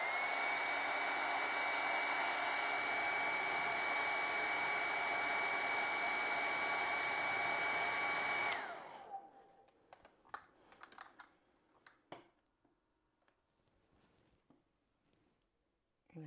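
A hair dryer blows steadily on acrylic paint for about eight seconds, then powers down with a falling whine, followed by quiet taps and small handling sounds of painting.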